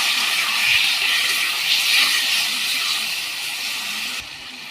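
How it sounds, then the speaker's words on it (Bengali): Fish curry being stirred in a pan with turmeric and salt, a steady broad hiss and sizzle running close and continuous, dropping off sharply near the end, with no talking. "এবার আমি এটাকে সুন্দর করে নেড়ে দেব"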